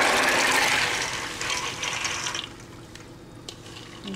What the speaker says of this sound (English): now we're going to drain the beans they've been soaking overnight